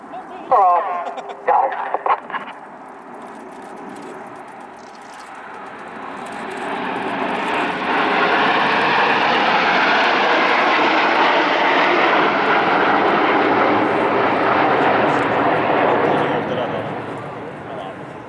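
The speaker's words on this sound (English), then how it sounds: "the aircraft are flying with their air brakes out" RAF Red Arrows jets perform at the RIAT 2025 air display, flying with air brakes out. A roar swells and holds loud for a long stretch, then fades slightly. Short bursts of speech come first.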